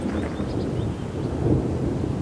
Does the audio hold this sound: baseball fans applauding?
no